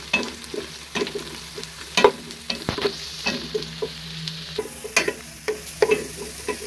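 Onions frying in a pan before pulao rice goes in, a steady oily sizzle punctuated by repeated sharp spatula scrapes and taps of stirring, close and with no talking.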